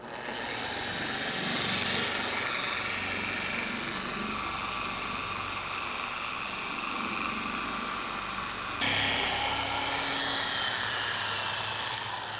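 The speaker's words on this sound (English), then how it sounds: "our blue Hex-Logic glaze pad when applying this with a TORQ machine" A TORQ polisher running at low speed with a blue Hex-Logic pad spreads glaze over a car hood, giving a steady, close, high-pitched whirring drone that shifts slightly in pitch partway through, with no talking.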